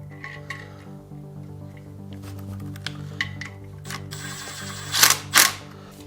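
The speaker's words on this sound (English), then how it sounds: "Now we can torque them all to 25 foot-pounds." A torque wrench tightening bolts on an ACT twin disc clutch and transmission in an Evo 9 gives a few metallic ratchet clicks, then two louder sharp clicks near the end, up close over a steady low hum.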